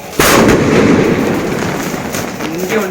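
A single loud, sharp firecracker bang close by during the Karthigai Deepam festival, followed by a rumbling echo that slowly fades.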